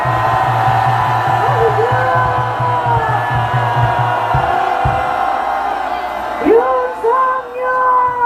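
A large crowd at a rally outside the Seoul Western District Court roars and shouts continuously, loud and dense, with whoops and yells rising over a steady low hum.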